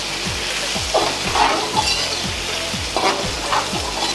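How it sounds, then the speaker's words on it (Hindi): Potatoes fry in a pan over a high flame while a spatula scrapes through them in a quick, regular rhythm of about two strokes per second, over a loud, close, continuous sizzle. "हम इसे हिलाते रहेंगे बिकॉज आँच जो है तेज़ है और नीचे ना लगेंगे"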